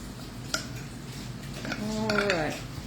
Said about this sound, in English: Get the rest of this out with this metal spoon.